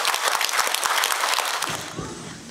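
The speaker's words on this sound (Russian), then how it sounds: "Эти аплодисменты вам." An audience at a charity concert applauds warmly, many hands clapping densely before the ovation thins and fades out near the end.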